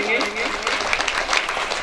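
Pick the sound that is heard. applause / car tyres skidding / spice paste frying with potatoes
applause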